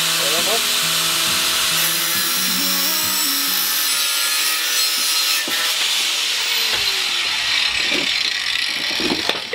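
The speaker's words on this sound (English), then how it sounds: "I'm using the drill to basically give me spin of the alloy, and then I'm just cutting it with a grinder" An angle grinder cuts an alloy tube while a drill spins it, making a loud continuous high-pitched grinding whine with shifting tones and scraping bursts throughout.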